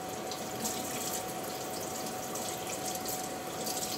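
Kitchen tap running steadily as a spoon greasy from cooking sole is rinsed, a continuous close splashing wash of water with no pauses and no talking.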